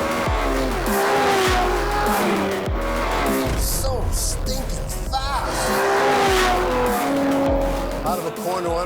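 A supercar screams around the Imola circuit, engine revving hard through gearshifts while tyres squeal and skid in the corners, loud and close, with someone talking excitedly over it.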